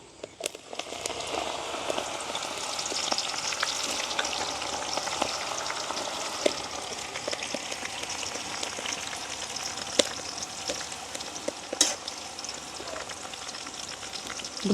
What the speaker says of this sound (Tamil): இப்போ நாங்கள் பொரிய போடுவோம்